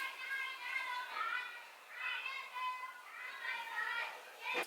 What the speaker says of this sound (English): All I hear outside are kids yelling Fortnite, Battle Pass.